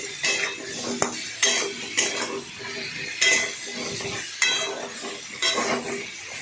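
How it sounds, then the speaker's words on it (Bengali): Potatoes and turmeric being stirred in a pan for a potato-and-pointed-gourd curry: repeated metal spatula scrapes and clanks at an irregular pace over a soft frying sizzle, with no talk. "অল্প পরিমাণে হলুদ দিলাম, দিয়ে এদিক ওদিক করে নাড়াচাড়া"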